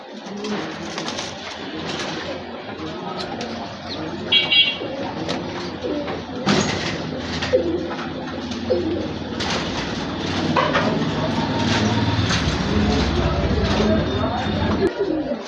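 Pigeons in a pigeon house give soft, repeated throaty coos at close range while a person talks over them.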